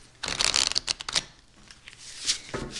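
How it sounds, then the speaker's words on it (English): Tarot cards shuffled for a reading: a quick run of crisp riffling flutters up close, then a softer pause and a few lighter shuffles, with no voices over them. "I'm going to go ahead and pick four cards"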